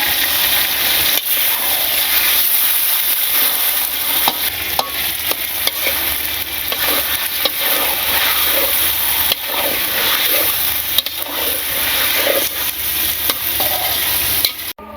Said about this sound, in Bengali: মশলা কষানো হয়ে গেছে, এবার মাংস দিয়ে দিই।